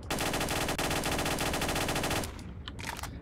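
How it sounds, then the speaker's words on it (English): Loud, rapid machine gun fire from the video game S.T.A.L.K.E.R., one sustained burst of about two seconds followed by a few shorter shots. "I do small bursts. So, a few shots."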